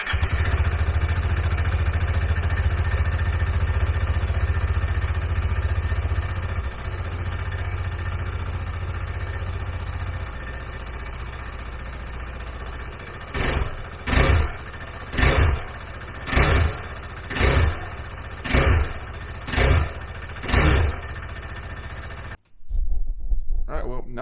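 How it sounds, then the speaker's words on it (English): A KTM 390 Adventure single-cylinder motorcycle fitted with a PowerTRONIC ECU idles steadily, then gets blipped in a series of about seven sharp, evenly spaced revs before cutting off and restarting briefly, close and loud. "just starting it up, I definitely noticed that it's definitely running smoother. And revving it was smoother."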